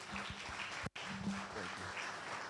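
Audience applause at a Nigerian Bar Association Eti-Osa branch law week gathering, steady moderate clapping from a crowd broken by a brief dropout partway through, with faint hum underneath.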